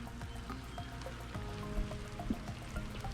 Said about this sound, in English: yep, still raining outside.